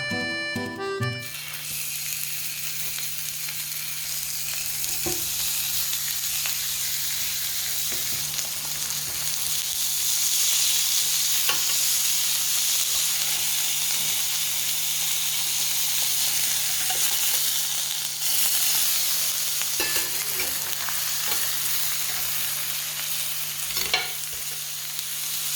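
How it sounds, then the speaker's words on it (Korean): Frozen patties frying in a pan, a loud, steady sizzle and crackle that runs throughout with faint spatters, close up and without talk. "얼린 패티를 구워 볼게요."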